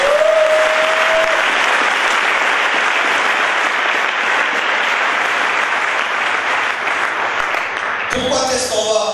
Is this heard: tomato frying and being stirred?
no